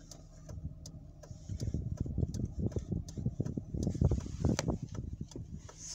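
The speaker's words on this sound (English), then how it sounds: "I hear him coming. I can hear the roar." A deep westbound mixed freight train rumble builds and grows louder at a railroad crossing, while the crossing signal ticks in a steady, regular rhythm above it.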